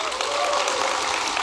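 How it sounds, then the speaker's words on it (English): A conference audience in Dallas breaks into dense, sustained applause for Hugo, with steady clapping and faint crowd voices blending through the short burst. "Give me a round of applause for Hugo."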